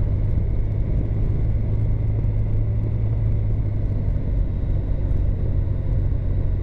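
A car descends curving roads toward the Danzturm in Iserlohn, its engine and tyre rumble steady and close from inside the cabin, a continuous low drone with no talk.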